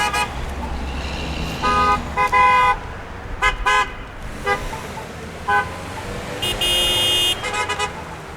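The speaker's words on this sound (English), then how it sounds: "I'm getting a lot of honks." Car horns honking repeatedly from passing traffic at a campus protest, several short toots and a couple of longer blasts scattered over about eight seconds, with street traffic noise and some voices between them.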